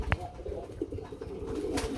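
At a pigeon farm that keeps racing and fancy breeds, pigeons coo in low, soft, repeated murmurs close by, with a faint tap at the start and steady background ambience.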